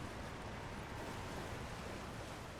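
Broad, constant roar of falling water from a waterfall in Elden Ring: Shadow of the Erdtree, dense and unvarying across the short stretch, with no voices.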